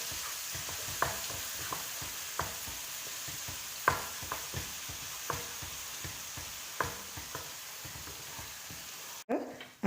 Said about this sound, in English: Add the ginger garlic paste, 1 tablespoon. Mix well till the raw smell goes off.